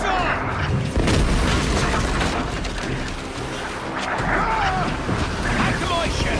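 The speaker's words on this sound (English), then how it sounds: "Gentlemen, our galleon has reappeared. Heads up! Mortars! Look sharp!" Mortar fire from enemy ships during a naval battle in the video game Assassin's Creed Black Flag, heavy booms and crashing impacts rumbling continuously beneath battle noise and shouting voices.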